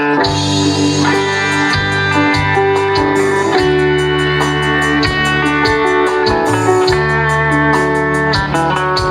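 An electric guitar plays a loud lead solo over a full live orchestra band at a village festival in Vilaseca, with driving drums and bass. The sound is dense and continuous.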